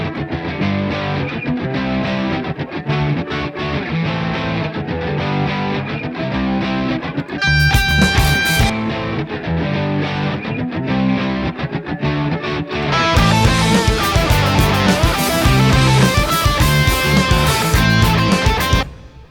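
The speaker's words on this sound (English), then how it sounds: "So that is our heavy rhythm guitar." Heavy distorted rhythm guitar played through a 1970s British amp with reverb and flanger, a steady driving chug that thickens into a fuller, brighter wall of sound partway through, loud and alone with no talking.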